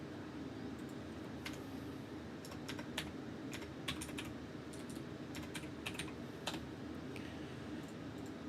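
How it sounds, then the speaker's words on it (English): Fingers type on a new computer keyboard, producing quick, irregular bursts of crisp key clicks close by over a soft background hiss, with no talking. "And I've got a new keyboard."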